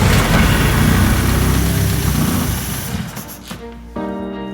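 Engine of a vintage Skoda car running loud and steady with dense low rumble, then the note drops and changes near the end, settling into a lighter, thinner idle.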